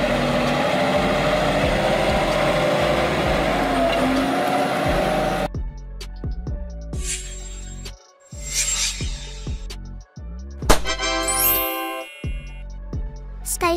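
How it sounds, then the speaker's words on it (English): A tractor engine runs with a steady rough rumble for several seconds, then shifts into sharper intermittent mechanical revs and bursts, fairly close and loud. "A vehicle used in agriculture to pull and operate farming equipment."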